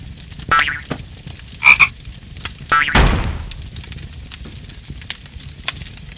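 Frog croaking in an Among Us animation, loud close croaks in short bursts separated by pauses, along with a few sharp clicks and thumps over a quiet background.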